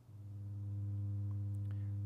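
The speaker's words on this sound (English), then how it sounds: "And that is a sine oscillator." A steady, pure low sine wave from an Endorphin.es Godspeed+ synthesizer oscillator hums on its own, slightly rough, with faint clicks near the end.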